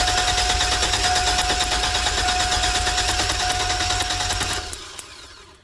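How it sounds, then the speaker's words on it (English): Chevrolet Astro van engine cranking on the starter during a compression test, a rapid rhythmic chugging that runs steadily for several seconds, close and loud, then stops abruptly with a faint click. "Now I'm gonna crank this and watch this gauge here."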